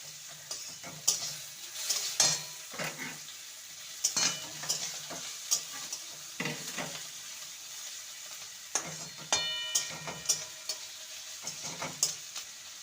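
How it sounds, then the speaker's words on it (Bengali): Chopped tomato with grated ginger and garlic frying in a pan for fish ball curry, soft sizzling broken by repeated sharp scrapes and taps of a spatula stirring, close and without talk. "আর দেবো একটা মাদারি সাইজের টমেটো কুচি ভালো করে নেড়ে নেব"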